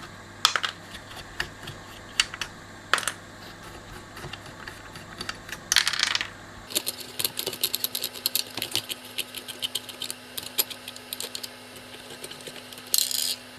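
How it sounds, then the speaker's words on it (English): Standoffs are unscrewed from a Tom Evans Mastergroove SR mkIII preamp, giving irregular small metallic clicks, ticks and light rattles up close, with a faint background hum that shifts partway through. "Just unscrew these standoffs. They come off quite nicely."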